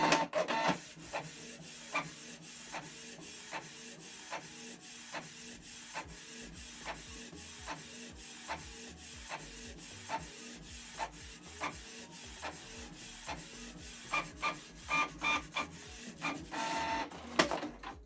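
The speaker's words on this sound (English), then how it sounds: "select Start Printing to print the second page" A Canon Pixma G3410 inkjet printer prints a second page, its print head shuttling in regular ticks about every second over a soft motor hum, ending in a louder burst of rapid clatter and paper feed, close and without speech.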